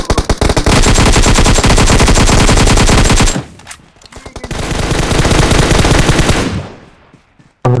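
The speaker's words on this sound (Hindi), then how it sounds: "विक्रांत के पास फायरिंग" Video game gunfire: loud, rapid automatic bursts fired in long sustained volleys, a brief pause, then another extended burst close up and dominating the sound.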